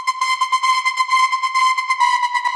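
A bright, buzzy white-noise synth tone chopped by a sidechained gate into a fast rhythmic pattern of short stuttering pulses, steady and loud with no voices.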